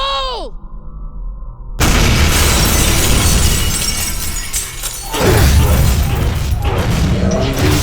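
A massive explosion in the video game Binary Domain: a sudden loud blast bursts in after a brief voiced moment and roars on with shattering debris, followed by a second swelling surge of rumbling destruction.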